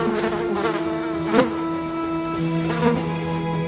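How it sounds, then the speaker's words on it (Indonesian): A plague of gadflies buzzes in a thick, continuous drone, close and steady, with a couple of brief louder passes as flies come near. "maka Tuhan mengirimkan tulah keempat, yaitu lalat pikat."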